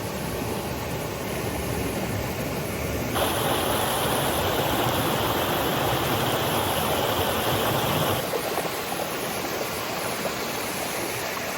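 A hinterland creek flows in a steady, broad rush of water. It swells louder for several seconds in the middle, then settles back. No voices.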